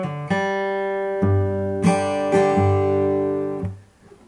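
Acoustic guitar plays the intro riff of a song, a sequence of plucked notes with open G-string hammer-ons and pull-offs, clear and close, ringing alone before fading out.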